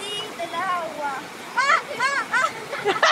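Water splashing in a stream as a small child is wetted, light splashes rising in short bursts while adults and someone talk over them.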